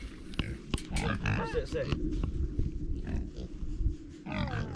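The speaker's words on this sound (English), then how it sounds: "Is that a big pig? Big mama pig." A big mother pig on a farm grunts repeatedly at close range, low rough grunts running through the clip while people talk over them.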